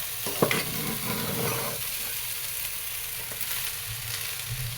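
Rice, lentils and spices being stir-fried together in a pot for khichuri, giving a steady close sizzle with occasional scraping stirs and no talking.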